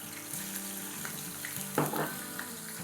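Ginger paste, garlic paste and fried onions hit hot oil in a pot, giving a constant close sizzle with a few scraping stirs and one brief louder spatter burst partway through.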